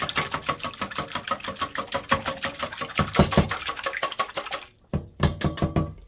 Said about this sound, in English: Just trying to whisk away some of that lumps left from the cinnamon